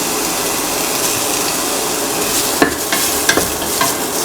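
Tomato pieces fry in a pan for an egg and cracked wheat dish, a steady broadband sizzle throughout with a few sharp scrapes and clicks of stirring near the end, close and fairly loud, no voices.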